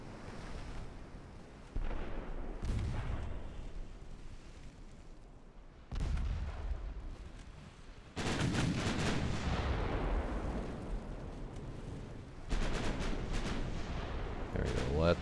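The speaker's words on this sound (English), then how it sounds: "It's finally taking some hits from the secondary guns." Secondary guns on a warship fire during a naval battle in Ultimate Admiral Dreadnoughts, set in a 1929 Ottoman campaign: several sharp booming salvos arrive at irregular intervals, each followed by a rumbling decay, with a voice talking faintly at times.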